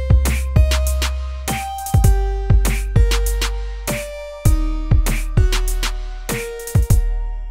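Drum loop from the Omnisphere OMG Volume 1 library with punchy kicks and sharp snare and hi-hat hits, played alone in a steady, repeating groove with tonal thuds.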